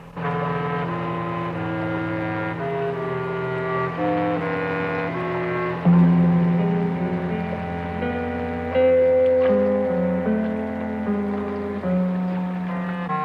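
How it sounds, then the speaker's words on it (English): A low, droning motor hum with sustained tonal notes, steady and moderately loud, swelling slightly midway like a boat engine drawing nearer. "I think I hear a boat coming."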